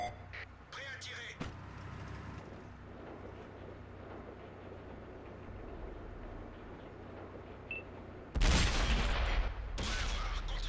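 T44 tank cannon fire on the Sand River map in World of Tanks, with a sudden loud blast late on over steady engine rumble and distant battle noise, while voices talk in the background.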